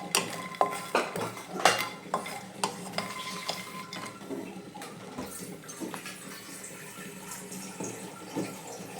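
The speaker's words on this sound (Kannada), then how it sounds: "ಫಸ್ಟು ನಾವು ಮಖಾನನ ಹುರಿಯೋಣ ಬನ್ನಿ." Makhana (fox nuts) being stirred in a pan, with sharp clinks and scrapes of a utensil against metal, busiest early and then a softer rustling, close by with no talk.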